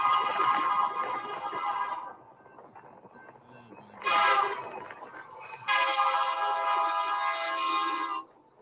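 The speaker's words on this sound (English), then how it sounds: "This is the Z train." Freight train passing, the Z priority train with snow-covered engines, its horn sounding in long harmonic blasts, a short one around the middle and a longer sustained one near the end, over rumbling rail noise.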